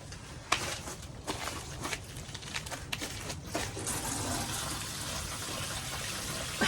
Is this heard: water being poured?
yes